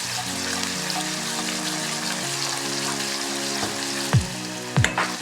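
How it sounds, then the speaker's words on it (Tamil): Schezwan chilli paste of onion, ginger, garlic, fresh red chilli and celery fries and sizzles steadily in a pan, a dense continuous crackle with a few louder pops near the end, no talking. "நல்லா ஃப்ரை ஆகட்டும்."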